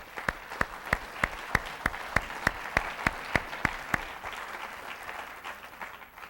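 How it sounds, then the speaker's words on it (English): Audience applause at a Distinguished Young Women scholarship program evening, with one loud, evenly spaced clap close by for about four seconds over a steady bed of crowd clapping that carries on after it stops. "if we could just give a round of applause for everybody who's had a part in this evening's program"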